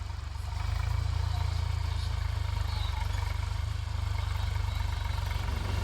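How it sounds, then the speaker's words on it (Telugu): Tractors with rotavators ploughing up a banana farm, a steady low engine drone rumbling continuously at moderate distance outdoors, with a bit of talk in the background. "ట్రాక్టర్స్ అయితే దున్తున్నాయి అనమాట"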